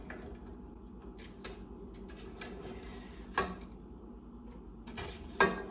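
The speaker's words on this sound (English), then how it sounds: "And then just put in all this lovely chayote." Chopped chayote pieces go into a metal cooking pot, giving a few soft thuds and clinks of utensil against pan with scraping between, against a quiet kitchen background.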